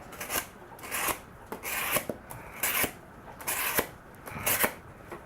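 A knife saws through thick cardboard about 6 mm deep in repeated rasping strokes, roughly one per second, close and fairly loud, with quiet gaps between.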